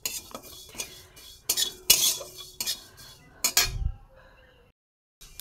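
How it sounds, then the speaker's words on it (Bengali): Panch phoron, the Bengali five-spice mix, dry-roasted in an oil-free pan over low heat: intermittent scrapes and metallic clinks of a spatula against the pan, close and fairly loud, then fading to near silence. "কিছুটা আমি পাঁচ ফোড়ন ভেজে নেব, শুকনো খোলায় ভেজে নেব।"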